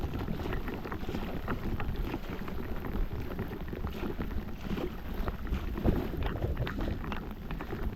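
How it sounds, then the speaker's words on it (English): Rain and wind on a reservoir during fly fishing: dense, steady patter of heavy rain on water and surfaces with a constant low wind rumble, close and unbroken. "We're fishing right into the wind, right into the rain."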